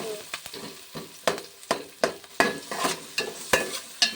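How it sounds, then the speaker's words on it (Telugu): Chopped onion, green chilli and curry leaves fry in a pan with a bright sizzle, broken by regular stirring scrapes and taps about every half second, close and clear with no talk. "ఇలా ఫ్రై చేసేసుకోండి."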